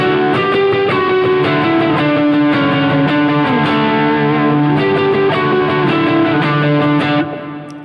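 An electric guitar played through a Stupor OD overdrive pedal rings out loud and driven, with sustained distorted notes and sliding melodic lines that hold steadily before cutting off near the end.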